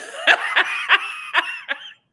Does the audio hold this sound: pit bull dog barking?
no